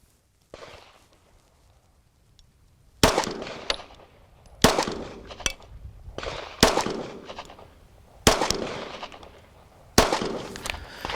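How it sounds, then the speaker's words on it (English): An Umarex Glock airsoft replica pistol fires six sharp, loud shots with blowback at roughly even intervals of a second and a half, each crack followed by a short ringing decay, after a quiet stretch at the start. "we're gonna hear that reaction from the normal firearm shot. On top of that, we'll have a little bit more blowback in there"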